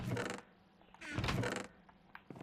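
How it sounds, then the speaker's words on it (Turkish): A wooden door swings shut in Minecraft, two creaking bursts from the game with a softer clack, heard fairly close with no voices. "şu kapıyı kapayalım"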